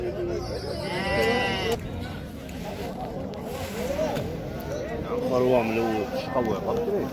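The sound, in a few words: lamb bleating at livestock market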